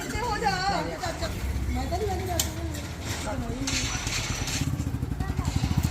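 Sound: motorcycle riding through village

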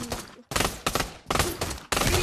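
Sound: Desert Eagle pistol gunfire in a video game

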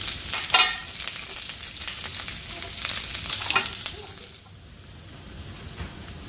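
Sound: shallots and curry leaves sautéing in oil

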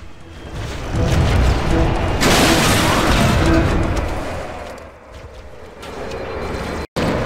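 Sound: rocket launcher firing in Halo: Combat Evolved video game

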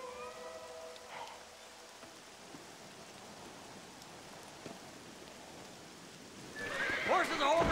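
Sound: horses neighing in video game Red Dead Redemption

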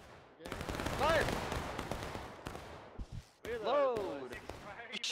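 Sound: musket volley firing in video game War of Rights

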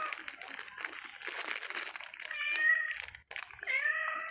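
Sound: cat meowing

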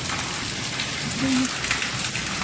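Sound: heavy rain

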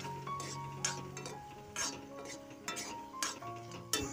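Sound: mixing rice flour into taro flowers

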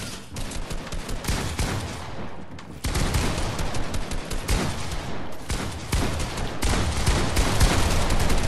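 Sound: gunfire in the Fortnite video game

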